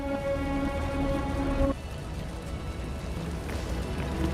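Steady rain falls in a video game, a dense even hiss that stays constant throughout, with a faint tonal game sound underneath that drops out partway.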